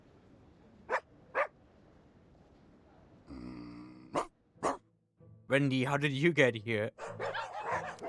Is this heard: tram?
no